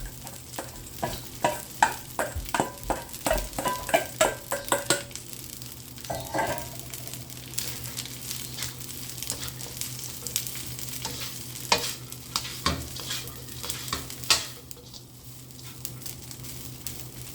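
Fried rice with Chinese sausage stir-fried in an oiled pan, with a steady sizzle under repeated sharp scraping and tossing strokes of a spatula, busiest early on, then a continuous fry with scattered clinks.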